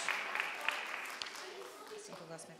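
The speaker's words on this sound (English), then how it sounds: "Let's give a big round of applause, ladies, for every team" Applause for the teams at a 5th grade spelling bee fills a school stage with a steady broadband patter of many clapping hands, moderately loud and sustained, with some crowd noise underneath.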